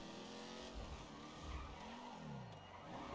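A car slides around a corner in the video game GTA 5, its tires squealing in a long wavering skid over a steady engine drone, fairly quiet and with no talk.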